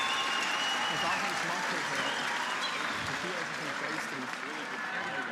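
An arena crowd at a curling match applauds in a steady, dense wash of clapping that holds at an even level, with commentators' voices running underneath.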